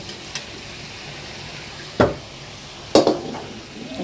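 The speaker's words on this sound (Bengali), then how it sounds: "এখন লেড়ে নেব" A pot of fish head curry with dried fish, taro stolons and cooked spices gets stirred, with a low steady simmering hiss and two distinct scraping clunks of a spoon against the pot near the end.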